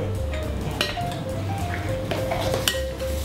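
Chicken being mixed by hand with salt, pepper and corn flour in a bowl, soft wet stirring and scraping with a few light clinks of utensils against the dish.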